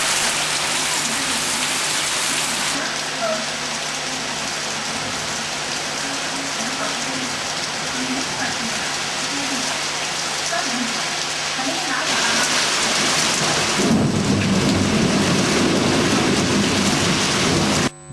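Heavy rain pours down in Delhi as a dense, steady hiss, with a soft rumble of thunder partway through and the downpour swelling louder toward the end.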